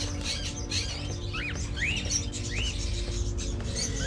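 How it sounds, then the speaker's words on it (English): Caged crows and cockatiels in a gloomy room full of bird cages in the video game Indigo Prophecy give several rising chirps and calls over a low, steady background hum, moderately near. "A room with many cages full of birds."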